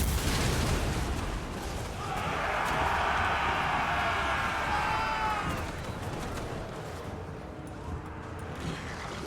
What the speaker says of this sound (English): I don't need as big an explosion here because they're really clustered.